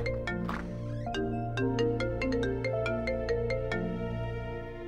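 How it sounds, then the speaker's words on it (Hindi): A mobile phone ringtone plays indoors in a Pakistani drama scene, a steady melodic electronic tune of repeated bright notes ringing continuously without any talk over it. "फोन है, शायद फवाद का होगा।"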